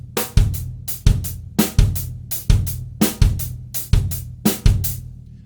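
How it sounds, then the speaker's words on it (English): Drum kit plays a funk pattern with the bass drum displaced onto sixteenth notes: steady, punchy kick and snare hits with ringing decay, repeating about every 0.7 seconds, loud and close with no talking. "So we're playing a bass drum on both E's of the bar."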